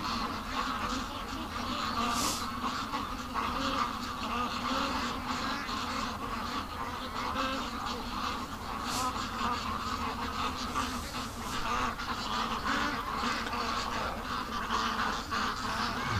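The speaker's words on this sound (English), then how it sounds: "Looks like the ducks are coming home though." Ducks coming home to the yard make a steady busy background of quacks and honks, with a continuous buzzy, rustling texture throughout and occasional louder calls.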